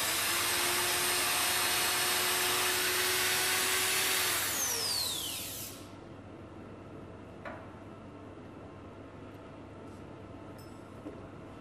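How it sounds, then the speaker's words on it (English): A surgical power drill boring a screw hole for a calcaneal plate, a steady high whine running for several seconds then winding down, followed by faint clicks in a quiet room. "Again, we will drill."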